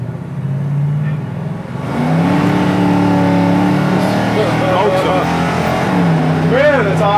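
A 1973 Plymouth Cuda's engine revs up and accelerates hard, rising from a loud idle into a sustained climbing roar heard from inside the car, with a rising whine of shifting gears and a voice briefly speaking over it.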